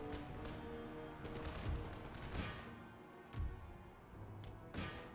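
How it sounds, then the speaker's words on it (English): Musket volleys from line infantry in the strategy game Empire Total War, a battle against the Dutch: several sharp, crackling gunfire bursts spaced irregularly over a continuous din of battle. "Fired off your volley in not a terrible manner."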